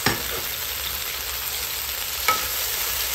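Tomatoes sizzle steadily in a hot pan while cooking squid adobo, a continuous broadband frying hiss with a soft stir or scrape near the start and another around two seconds in; no voices.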